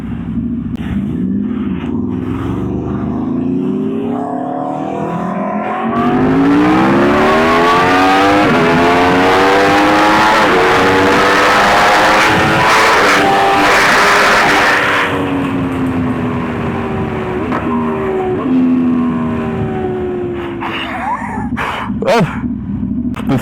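An Aston Martin Valkyrie hybrid hypercar launches and accelerates on a public road, its engine climbing loudly through rising, high-pitched revs before easing off, with faint background noise.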